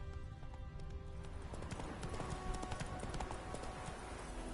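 Clip-clop of a horse named Roach trotting, a quick even rhythm of hooves held at moderate volume under a steady background hum.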